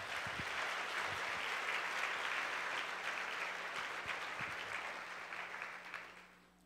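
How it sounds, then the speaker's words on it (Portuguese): A church congregation at a Sunday worship service claps together in sustained, dense applause that holds steady for most of the stretch, then fades out at the end. "dê um aplauso aí a Jesus."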